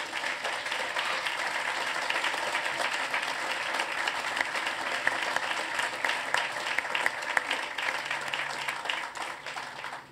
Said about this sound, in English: So maybe we can have a round of applause for the ambassador.